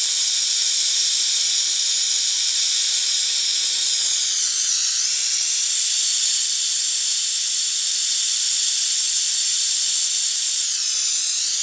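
A torch flame fuses metal wire for a kusari fundo, giving a loud, constant, close hiss that runs steadily through the whole stretch with no talking.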